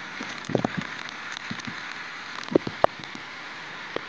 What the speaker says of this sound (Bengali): প্রচন্ড বৃষ্টিপাত হচ্ছে